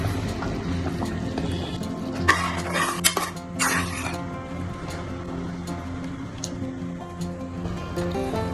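Spoon clinking and scraping against a pot while Gujarati dal dhokli is stirred, with a few sharp taps amid soft liquid sloshing and low background hum.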